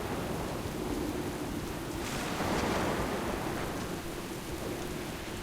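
A steady roar of heavy rain on a storm-tossed ship in World of Warcraft, with a low thunder rumble swelling briefly in the middle, continuous and enveloping, no voices.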